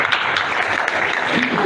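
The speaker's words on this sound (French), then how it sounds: "Vous pouvez applaudir pour vous." A crowd at a developer conference claps for itself, a dense, steady burst of applause throughout the short moment.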